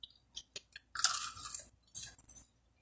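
Crunchy fried pork rinds (chicharrones) being chewed up close, with loud crackling bursts: a few short bites, then a longer run of crunching and another burst near the end.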